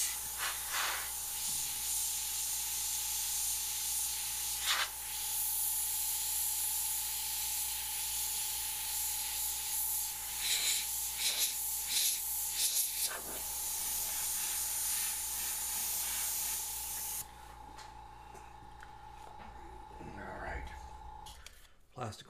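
An airbrush sprays red paint over a mask, a steady close hiss that runs for most of the clip with brief bursts and pauses, then cuts off near the end.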